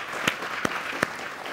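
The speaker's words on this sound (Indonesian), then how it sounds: "Tepuk tangan dong buat Mas Erik." A studio audience at an Indonesian year-end talk show applauds steadily; dense clapping fills the room with a few sharper claps standing out.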